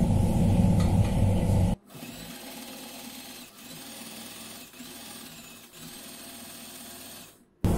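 A sewing machine stitches a churidar pant seam in rapid, buzzing bursts that run close and clear; a louder, lower rumble opens the first two seconds, and there is no talking.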